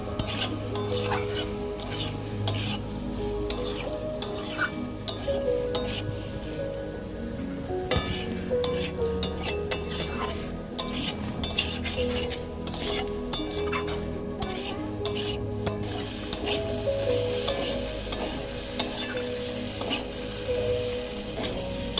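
Food sautés with garam masala powder in a pan, a spatula stirring and scraping in steady rhythmic strokes over continuous sizzling and occasional clinks of metal, close and unbroken for over twenty seconds.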